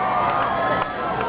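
A concert crowd at a show in Milwaukee cheers and shouts in a continuous roar, loud and spread out, dipping slightly near the end.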